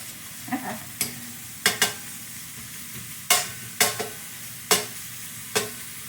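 Repeated sharp bursts of crackling sizzle flare up over a low steady frying hiss as bacon spits in a hot pan, with no talking.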